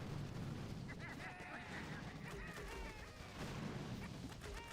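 Cryo bomb and barrage explosions in a video game boss fight against a Cryo Crab, a steady rumble of booms and crackling blasts with chiming effect tones, layered under a voice.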